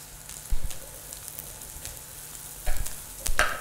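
Onions and tomato frying in a pan for a Kenyan goat (mbuzi) wet fry, a steady close sizzle broken by a few louder bursts as ingredients are stirred or added.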